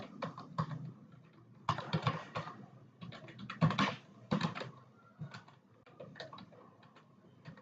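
Rapid keystrokes on a computer keyboard during a timed typing test, heard alone as close, uneven bursts of clicks with brief pauses between flurries.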